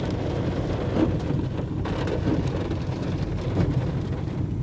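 Dense, steady hiss of heavy rain with rumbling gusts of wind, continuous and fairly loud throughout, no voices.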